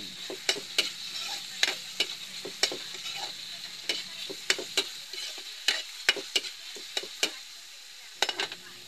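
A utensil stirs tomatoes in a frying pan, with a steady string of sharp scrapes and taps over a faint sizzle, close and alone.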